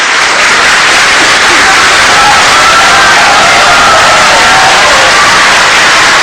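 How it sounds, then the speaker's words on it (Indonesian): The audience at the 2014 Indonesian presidential debate between the candidate pairs roars with loud, continuous cheering, shouting and clapping that fills the whole hall without letting up. "Silakan berikan tepuk tangan."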